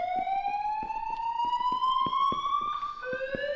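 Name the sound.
alarm horn looping sound in Unreal Engine 5 lighting demo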